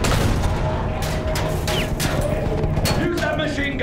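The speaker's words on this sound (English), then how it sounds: "Use that machine gun!" Battlefield 1 machine gun fire on a World War I battlefield with trenches, a continuous dense rattle of shots mixed with battle noise and muffled shouting, loud and close.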